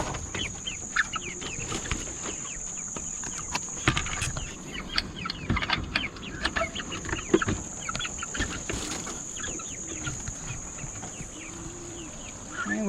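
Farm chickens clucking in a pen, a busy scatter of soft clucks and short calls over a constant high electrical hum and some rustling.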